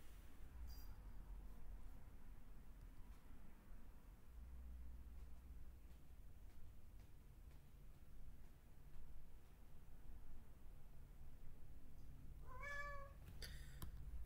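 A cat meows a couple of times near the end, short rising calls over a low steady room hum, with an indoor background otherwise quiet.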